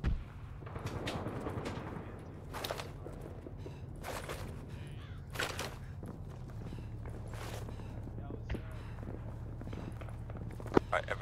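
Scattered gunshots in the military shooter Arma 3, sharp reports spread across the scene over a steady engine drone, some near and some farther off.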